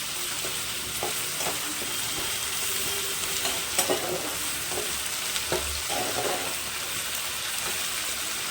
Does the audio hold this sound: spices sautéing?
yes